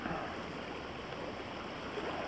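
The Louro river runs high past the Roman bridge of Orbenlle in Porriño, a steady broadband rush of flowing water that holds even and fairly near throughout, with no speech.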